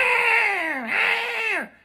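A pet cat on a diet meows loudly for food in a kitchen, one long drawn-out call that rises, dips and slides back down before cutting off, close and alone with no talk.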